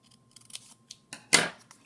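A few crisp scissor snips through paper sound up close, small clicks followed by one louder cutting snip, with quiet between them.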